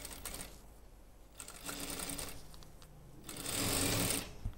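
A sewing machine stitches fabric for a folding travel bag in three runs of rapid, even whirring, separated by brief pauses, the last burst fastest and loudest, with no talk over it.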